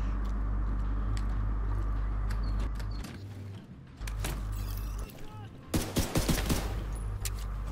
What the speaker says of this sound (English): I shot this barrel, that's why.